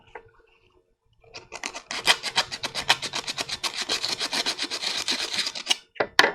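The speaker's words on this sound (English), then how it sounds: "A little bit of sanding here." Sanding by hand with a small wooden block on an armor shin calf piece, a quick run of close, rhythmic rasping strokes that starts after a short quiet pause and continues steadily with no talking.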